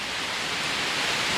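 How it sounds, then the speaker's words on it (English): A waterfall in wild mountains pours down into a pool, a steady broadband rushing roar heard alone and unbroken throughout. "There's something so therapeutic about the sound of a waterfall."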